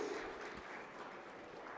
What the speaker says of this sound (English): Can we have one more round of applause for our speakers,